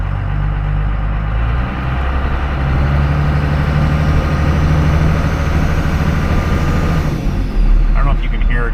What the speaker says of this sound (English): The truck idles perfect, but it's got a misfire.